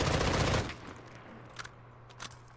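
An assault rifle sprint-fires in Call of Duty Modern Warfare: a loud, dense automatic burst for about half a second, then quieter scattered thuds and two short sharp bursts further off.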